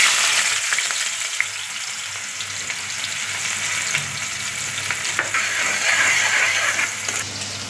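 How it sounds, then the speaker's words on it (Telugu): Onions frying in hot oil for a coconut and broad bean curry, a dense, loud, continuous sizzle with occasional stirring scrapes, close up and without speech. "ఆయిల్ అయితే హీట్ ఎక్కిపోయిందండి ఇప్పుడు ఆనియన్స్ వేసుకుందాం"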